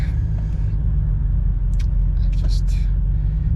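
Steady low engine and road rumble fills the inside of a car crawling in traffic, with a few brief faint clicks and muffled sounds over the drone.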